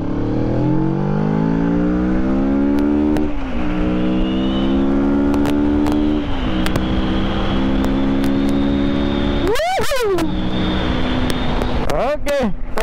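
A Kawasaki Z650 650cc motorcycle on a road ride accelerates at full throttle, its engine note climbing through several gears with rising and falling pitch sweeps. Loud wind rush runs throughout, and brief higher sounds come near the end.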